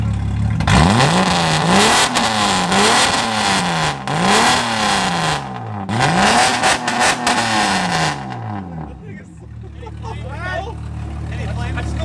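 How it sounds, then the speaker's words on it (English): A car engine revs up and down in repeated rising and falling pulls, loud and close with a throaty exhaust, then settles to a low idle. "Hey, get some exhaust notes on this."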